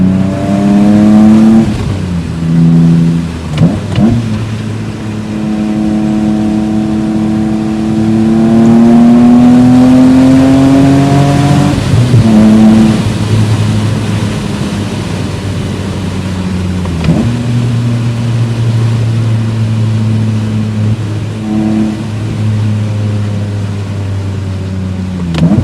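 A BMW Z3M Roadster engine pulls hard on a back road, revving up through the gears with rising pitch sweeps and brief shift dips, loud and continuous throughout with no talk.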